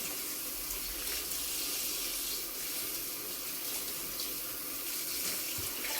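A kitchen tap runs steadily into a sink while small green peppers are washed for a tomato and pepper pickle, giving a constant splashing hiss with no talking.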